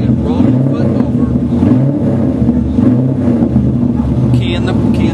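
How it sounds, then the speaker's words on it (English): Car engine revved in quick blips of the gas pedal during heel-toe braking, several rising and falling surges over a steady loud engine drone. "at the right moment rolling your ankle over and blipping the gas"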